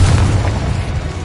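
A Confringo blasting spell explodes in the Hogwarts Legacy video game: a loud, dense, low rumbling boom that stays heavy through the whole moment with no voices.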